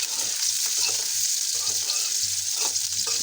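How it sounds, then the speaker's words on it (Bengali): Carrot, cauliflower and potato fry in a pan with a constant bright sizzle, broken by a few short low thuds of stirring. "গাজর, ফুলকপি, আলু এটা দেওয়া বেশি করে ভাজি করে রাখছি"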